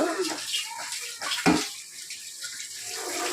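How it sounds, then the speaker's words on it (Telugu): Basmati rice is rinsed by hand in water in a kitchen, with steady close sloshing and running-water wash plus a brief louder splash midway. "బియ్యం కడుగుతావు ఇప్పుడు."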